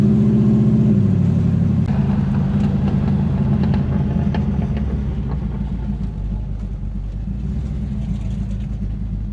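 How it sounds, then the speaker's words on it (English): A 1967 El Camino's engine rumbles loudly and steadily close by, a deep idling throb that eases slightly after the first second. "Just hearing a sound of a motor."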